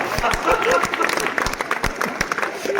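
Scattered crowd applause at a Holi comedy show, with uneven claps breaking through while voices talk over them at moderate volume.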